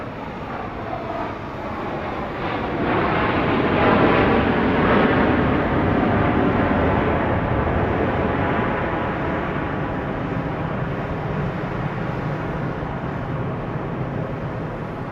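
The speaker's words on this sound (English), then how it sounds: "Here comes flight 3222 from Orlando." A jet airliner arrives at Dallas Love Field at night on flight 3222 from Orlando, its steady engine roar building quickly and holding loud and broad for many seconds before tapering slightly, with no voices over it.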